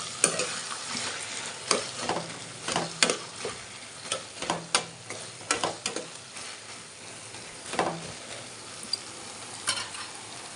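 Cut eggplant softening in a pan is stirred with a utensil, giving irregular scraping clicks and knocks over a steady, soft sizzle, close and alone with no talking.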